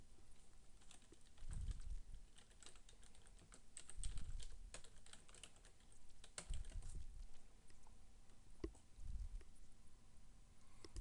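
Steady typing on a computer keyboard, close and fairly quiet, with irregular clusters of key clicks and a few low thumps, no talking.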